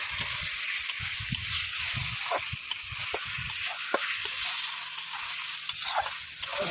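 Mutton and liver frying in a pan with a little fat, giving a steady close sizzle and hiss while a utensil stirs and taps against the pan now and then.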